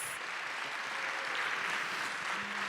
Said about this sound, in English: that performance deserves another round of applause